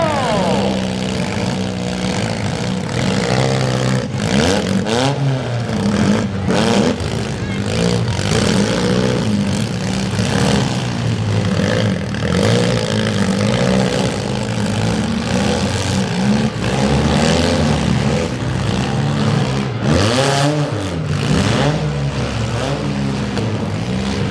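Continuous loud engine roar with rising and falling revs from several youth compact cars at a county demolition derby, a dense, rumbling wash of motor noise throughout.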